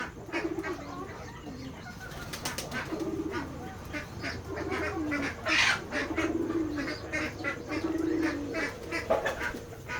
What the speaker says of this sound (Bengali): আমাদের এই খামারে অনেক সুন্দর সুন্দর কবুতর আছে।